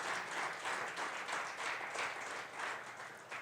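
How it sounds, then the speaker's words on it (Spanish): A church congregation claps together during a sermon, a faint, distant patter pulsing in a steady rhythm with no voices over it. "Denle un aplauso a nuestro Dios"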